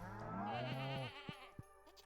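Sheep in Stardew Valley bleat in a long, wavering in-game cry lasting about a second, followed by a few soft clicks and taps of game sound.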